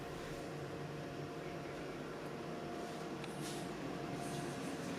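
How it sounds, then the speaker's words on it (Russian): A hotel room air conditioner at a beach hotel in Camyuva, Kemer, Turkey runs with a loud, steady broadband whoosh and hum that does not change from start to end. "Номер оборудован кондиционером. Шумит он, конечно, очень сильно"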